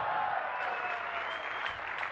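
An audience at a business meeting claps and cheers, a dense, continuous wash of applause with crowd noise, steady and fairly loud throughout.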